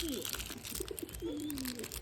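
Pigeons cooing close by, several soft throaty coos rising and falling over a couple of seconds with light background noise.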